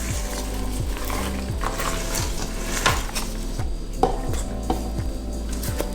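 A spoon stirs cake batter with chopped walnuts in a bowl, producing a steady run of rhythmic scraping knocks against the bowl at close range, with soft clinks between strokes.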